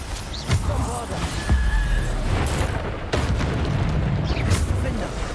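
A Bombarda spell in Hogwarts Legacy sets off booming blasts amid dense game effects, with a heavy burst near the start and another around the three-second mark, while a voice talks over the noise.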